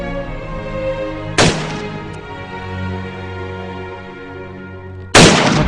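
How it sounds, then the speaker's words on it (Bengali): Dramatized war gunfire sound effect: two sharp, loud gunshot blasts a few seconds apart over a sustained droning musical backdrop, with no voices. "হানাদার বাহিনী ত্রিমুখী আক্রমণে তাকে ঘিরে গুলি চালাতে লাগল।"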